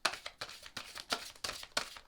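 A tarot card deck is shuffled in quick, close bursts, about eight crisp riffling rustles in a steady rhythm with no talking.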